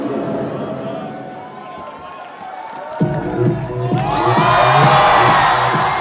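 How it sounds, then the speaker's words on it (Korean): A crowd at a figure skating ice show applauds, then breaks into louder cheering and whooping about halfway through. The sound swells into a broad, sustained roar from a big arena audience. "미셸 칸 선수와 김연아 선수에게 여러분 다시 한번 큰 박수 부탁드립니다."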